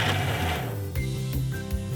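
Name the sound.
mixer grinder blending dosa batter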